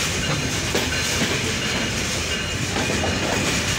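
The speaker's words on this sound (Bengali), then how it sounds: "ঢাকাগামী আন্তনগর ডাউন নীলসাগর এক্সপ্রেস ট্রেনটি বর্তমানে বিরামপুর ইন করলো" Dhaka-bound Down Nilsagar Express, an intercity train from Chilahati, rolls into Birampur station with a steady loud rumble of wagons and rhythmic clickety-clack of wheels on rails throughout, no voices.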